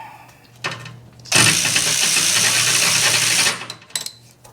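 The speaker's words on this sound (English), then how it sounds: "So I'm gonna get a socket wrench up in there and get that off of there next." Tool work on a 1973 Mercedes R107 450SL during engine removal, loosening a grease-encrusted 10 mm bolt: a loud, close burst of steady whirring lasting about two seconds, with scattered clanks and clicks before and after.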